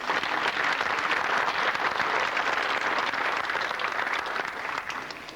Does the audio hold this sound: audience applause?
yes